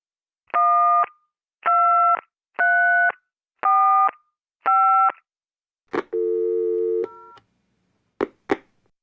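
A telephone busy signal in a radio play pulses five times in even beeps, then come a few clicks, a longer sustained tone and two sharp final clicks, with no voices.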